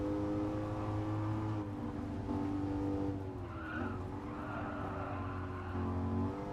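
A race car in Gran Turismo Sport drives on, its engine droning steadily with shifting revs and tire squeal, loud and continuous with no talk over it.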